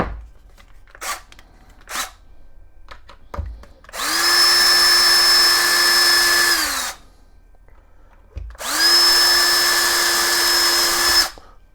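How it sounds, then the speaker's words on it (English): Two bursts of a power drill with a 1/8 inch bit whirring at high speed, each lasting a few seconds, loud and close, separated by a brief pause with small clicks. "you can just drill right now. Once again, let's just drill right now."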